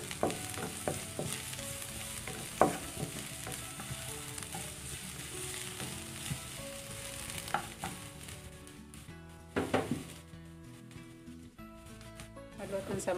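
Ingredients sauté in a pan for orange-leaf fried rice, a soft continuous sizzle with occasional spatula clicks and scrapes, close but fairly quiet, with faint background sounds mixed in.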